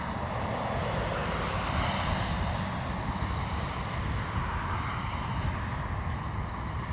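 A Ryanair airliner arriving from Malaga at Dublin Airport gives a steady, broad jet roar that holds at an even loudness throughout, with wind buffeting the microphone.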